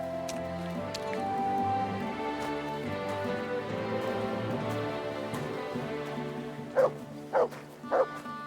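A dog in Kingdom Come 2's DLC lets out three sharp barks in quick succession near the end, over a steady bed of game music and rain-like ambience.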